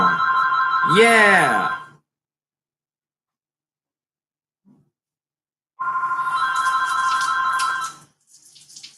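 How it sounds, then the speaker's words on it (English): A house phone rings in two long electronic trilling bursts separated by several seconds of silence, close and fairly loud, with a brief spoken word in the gap. "there goes the house phone"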